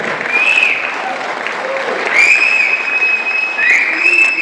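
Audience applause at a stage event in Dubai for a junior talent show, steady dense clapping filling the whole stretch with a faint whistle-like tone over it.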